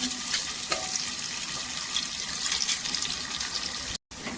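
Plenty of onion frying in a pan for spiced moth bean rice, a dense continuous sizzle up close with a few faint clinks, cut by a brief dropout near the end.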